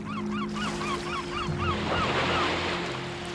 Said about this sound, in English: the piercing cries of seabirds, waves crashing against the cliff face